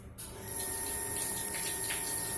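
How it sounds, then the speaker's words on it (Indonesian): Water running steadily from a small tap fed by a booster pump, a continuous hissing splash that starts after a brief click and carries on evenly at moderate volume, with no talking. "Coba kalau dengan keran kecil yang segini"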